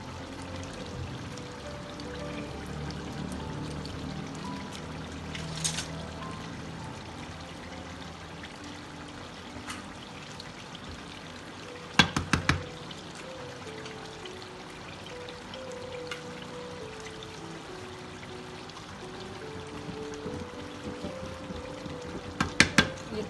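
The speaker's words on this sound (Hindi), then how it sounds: "ये तो सभी निचोड़ लिया, 2 लेमन मैंने निचोड़े हैं।" Lemon juice dribbles and trickles from two squeezed lemons into a mutton karahi, a soft, steady liquid pour with a few brief sharp bursts along the way.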